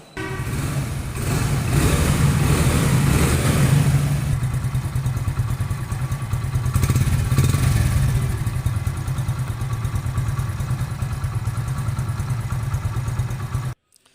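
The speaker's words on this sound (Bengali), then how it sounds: "আপনারা বাইকটির কিন্তু সাউন্ড কোয়ালিটিও দেখলেন, একদম শোরুমের থেকে বাইক বের করে যে রকম সাউন্ড" A 2024 Hero Splendor motorcycle in near-new condition runs with a steady, close engine putter, rising briefly in a couple of revs before settling to a constant idle, then stopping abruptly.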